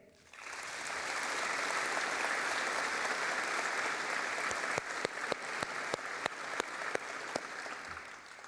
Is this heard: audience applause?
yes